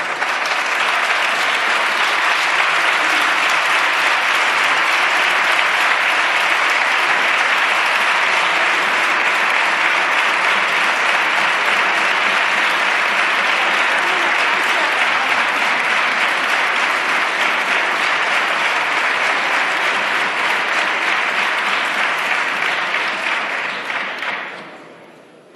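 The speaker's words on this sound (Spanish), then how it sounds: "eso es lo que hemos visto con los aplausos de la bancada" Sustained loud applause fills the benches of the Spanish parliament, a dense continuous clapping from many members that holds steady for about twenty-four seconds before fading out at the end.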